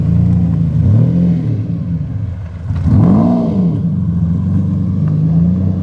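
A Lamborghini Diablo SV engine revs up and falls back twice, a loud close-up roar rising in pitch then dropping over a low idling rumble.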